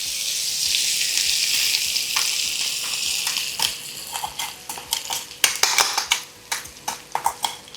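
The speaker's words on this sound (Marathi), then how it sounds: "जिरे फुटल्यावर हा हिरवा वाटलेला मसाला" Green ground masala hits hot ghee with spluttered cumin for a fasting mixed-vegetable dish, giving a loud, steady sizzle that fades into sharp clinks and scrapes of a spoon against the pan.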